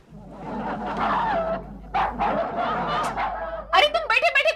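A dog barks loudly in a comedy series scene, with sharp repeated barks crowding the end of the clip after a stretch of talk and a voice that seems to mimic the barking.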